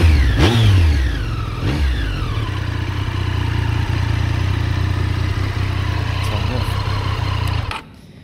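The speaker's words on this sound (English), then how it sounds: "So there she is, starting up. I'll give her a rev as well." A 2019 Triumph Street Triple RS motorcycle engine gives a couple of sharp revs that rise and fall, then settles into a loud, steady idle that cuts off near the end.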